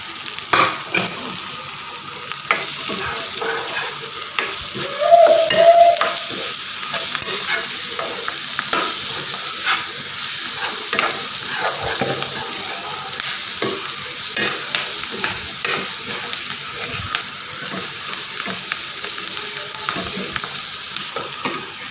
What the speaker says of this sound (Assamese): এতিয়া মই কাটি থোৱা জলকীয়াখিনি দিছোঁ